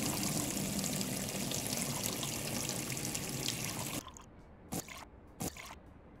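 Water pours steadily into a brewing bucket in the Brew Pub Simulator video game, a loud continuous rush that stops abruptly, followed by a few brief splashing drips.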